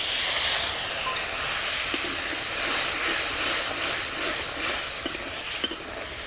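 Water hits a turmeric-spiced paste being fried in a pan for a catla fish and yogurt curry, giving a steady, close sizzling hiss with a few faint utensil clinks.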